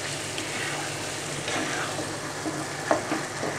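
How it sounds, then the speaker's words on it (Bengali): Country chicken being stirred in a pan for a bottle gourd curry: steady close sizzling, punctuated by several soft scraping stir strokes and a sharper clink near the end. "চিকেনটা দিয়ে আমি একটু ভালো করে মিশিয়ে দিচ্ছি নেড়ে চেড়ে"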